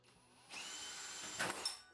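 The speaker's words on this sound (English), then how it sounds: "The drill bit just snapped." A power drill bores into a wooden ceiling inside a tiny home, a steady whirring grind that starts after a quiet moment and ends with a couple of sharp spikes.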